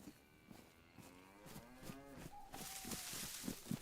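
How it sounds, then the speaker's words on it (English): A cow in the survival game DayZ gives a series of drawn-out, wavering moos that rise in pitch and grow louder, ending with a brighter, noisier bellow. Heard alone and fairly close. "There's a cow right there."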